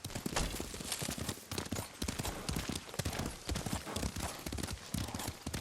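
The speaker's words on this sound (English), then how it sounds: "Lord Sakai taught me to ride a horse." Horse hooves in the video game Ghost of Tsushima clip-clop at a steady gallop, close and loud throughout, with occasional clatter and no talk.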